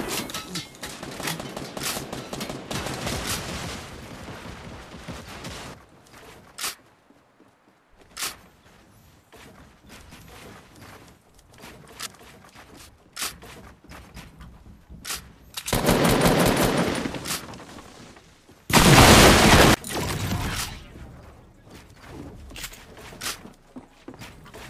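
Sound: gunfire in the video game Fortnite

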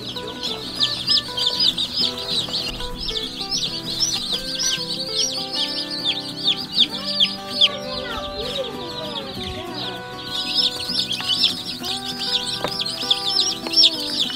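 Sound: laying hens clucking

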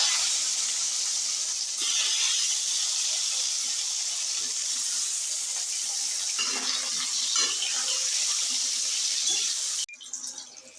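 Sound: frying brinjal pieces in oil

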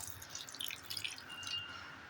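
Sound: pouring a little water into jaggery for syrup

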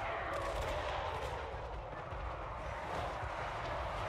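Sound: cannon fire in a video game

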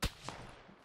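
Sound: sniper gunshot in the video game PUBG

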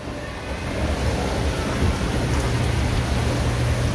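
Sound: light rain drizzling after a heavy shower

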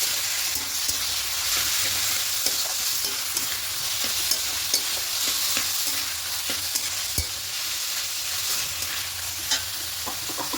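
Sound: stirring taro leaf curry with salt and sugar in pan

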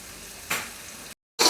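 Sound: tempering spices sizzling in hot oil for cauliflower curry

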